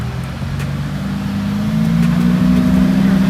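A Lamborghini pulls away at a car show, its engine note rising and swelling steadily as it accelerates, loud and fairly close with no talk over it.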